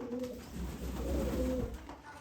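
Domestic pigeons coo steadily while they are fed grain and mustard seed, a close, loud run of low throaty calls with no talking.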